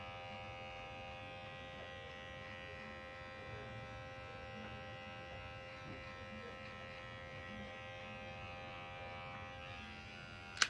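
Electric hair clippers buzz steadily against the skin during a gentle men's shave, a close, continuous motor drone with a sharp click at the very end.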